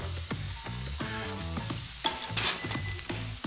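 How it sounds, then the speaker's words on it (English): Onions and mushrooms sautéing in olive oil in a pan for Japanese Naporitan spaghetti. Close, steady sizzling with repeated scraping stir strokes and a few sharper clatters of utensil against pan. "Now I'm gonna saute these until the mushrooms start to brown."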